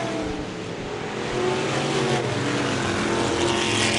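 Vintage race cars on a dirt oval at Merrittville run together in a feature race, a loud continuous engine roar that swells and holds steady as the pack passes close by.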